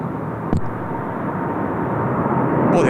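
Airliner accelerating down the runway at Seoul Incheon Airport on a long takeoff roll bound for London Heathrow, a steady broadband engine roar that grows slowly louder, with a brief knock near the start.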